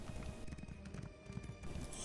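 Hoofbeats of a horse mount in the Elder Scrolls Online video game clop in a quick, steady rhythm over a busy game soundscape for about two seconds, with no one talking.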